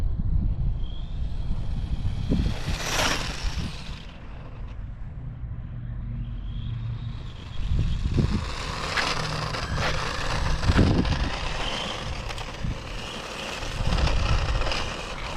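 A McLaren MP4/6 RC Formula 1 car on an F103 chassis with a brushed motor whines past with rising and falling pitch, accelerating, braking and making flybys close by, with a few knocks and bumps.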